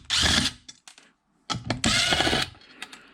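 A power tool drives out stainless steel screws from an RF amplifier being scrapped, with two loud whirring bursts and short clicks and rattles between them, no talking.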